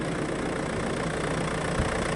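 A tractor engine idles steadily with its brush hog PTO switched off, giving a constant low rumble with no change in pace throughout.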